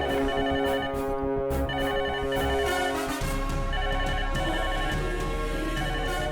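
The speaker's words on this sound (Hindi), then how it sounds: "सर सर फोन आ रहा है सर" A phone ringtone plays loudly and continuously, a bright repeating melodic pattern with a low hum underneath in the second half.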